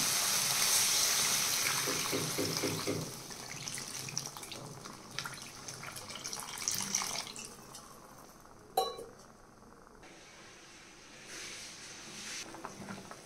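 Water is poured into an Odia-style prawn curry with fried potatoes, giving a soft liquid rush and sizzle with a few clinks of utensils against the pan.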